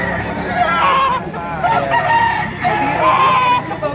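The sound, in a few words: rooster crowing, gamecock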